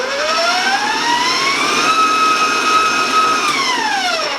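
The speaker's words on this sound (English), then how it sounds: "my mixer and beat them in rather than by hand" Electric stand mixer beating brownie batter for chocolate apple nut brownies, a loud steady motor whine that ramps up in pitch, holds, then winds back down, with no talking.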